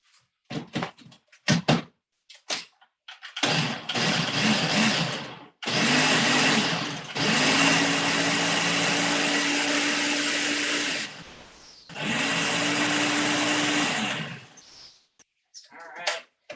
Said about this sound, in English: And then I am going to blend this up